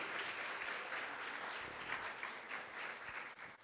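A church congregation applauds during a sermon, an even, fairly faint wash of many hands clapping that continues for a few seconds without talk.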